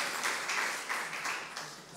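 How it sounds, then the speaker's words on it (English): Audience applause for speakers and panels at a health workforce conference, a moderate patter of clapping hands over two seconds with no talk. "A big clap of hands, show of hands for all our fantastic speakers and the panels"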